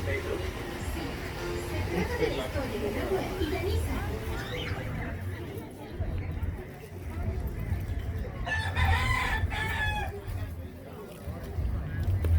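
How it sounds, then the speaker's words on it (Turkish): Roosters crow and hens cluck among other bird calls at an American flea market, with people chattering in the background of a busy, noisy space. "Görüyorsunuz baya kuş çeşitleri var."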